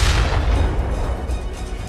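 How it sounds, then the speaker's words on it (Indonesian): Deep explosions rumble in a heavy, continuous low roar, loud and close, with no voices over them. "Beberapa ledakan pada saat ini juga mulai terdengar menderu."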